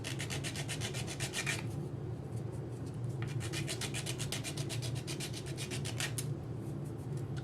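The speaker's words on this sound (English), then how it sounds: "we're going to go on the other side and sand off the hearts." A UV resin ink pen being sanded by hand to remove raised heart shapes: rapid, evenly spaced rasping strokes close up, with a short lull before the rhythm resumes. No voices.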